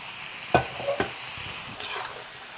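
A fried chicken masala paste with onion and green chilli is stirred in a hot pan: a low sizzle runs throughout, broken by a few sharp scraping strokes of the spoon.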